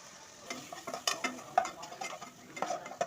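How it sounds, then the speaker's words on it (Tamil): Onions, green chilli and capsicum frying in oil in a pan, with a steady soft sizzle broken by repeated spoon stirs and scrapes against the pan, close and moderately loud. "வெங்காயம் பச்சை மிளகாய் கேப்சிகமும் போட்டு நல்லா ஃப்ரை பண்ணிப்போம்"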